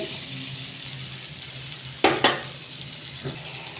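Okra frying in a pan gives a steady close sizzle that runs throughout, broken near the middle by two sharp clatters of a utensil against the pan, then a softer knock.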